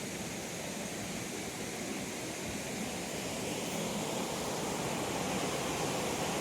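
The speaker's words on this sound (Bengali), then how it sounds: "জলটা দেখো কিরকম আসছে" Water flowing steadily outdoors beside a tree, a continuous broadband rush holding at an even, moderate level throughout with no voices.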